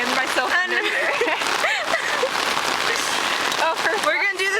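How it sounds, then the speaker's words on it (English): Heavy rain drums on a small one-person umbrella in a steady dense patter, close and loud, with someone talking and exclaiming over it throughout. "I hate the rain."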